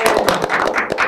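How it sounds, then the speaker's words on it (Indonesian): Hands clapping in an audience welcoming a guest onto a talk show, a quick burst of dense, crisp claps at close range, with no voices over it. "Tepuk tangan."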